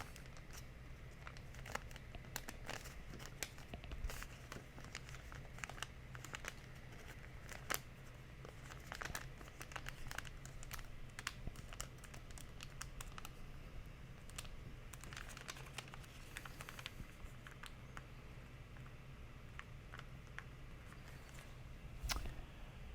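Origami paper being folded and creased into a fox with fangs, with quiet close-up crinkles, taps and sharp little creasing clicks that come irregularly over a faint steady hum.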